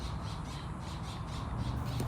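Birds squawking outdoors in a steady series of short, repeated calls over a constant background hum, with no talking.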